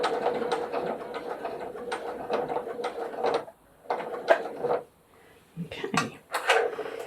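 A sewing machine stitching a zipper pouch runs in short, uneven bursts of rapid mechanical clatter with brief pauses between runs, moderately close, followed by clicks and handling noises.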